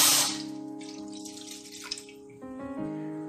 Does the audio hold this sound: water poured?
yes